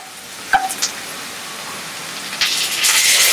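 Onions fry to light brown in a pan with a little turmeric, a steady close sizzle with a few stirring clinks, the frying swelling louder and hissier toward the end.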